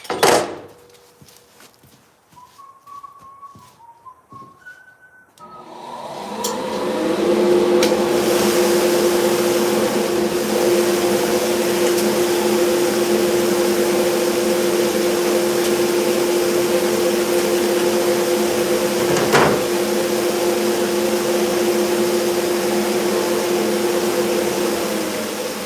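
A woodworking jointer is switched on after a few clicks and handling noises, spinning up to a loud, steady motor whine with a constant hum that runs on close and unbroken for about twenty seconds.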